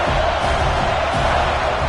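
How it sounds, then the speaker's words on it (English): A stadium crowd roars continuously at a college football game in EA College Football 26, a dense, loud wash of cheering that holds steady without breaks. "Third down and the crowd really getting into it."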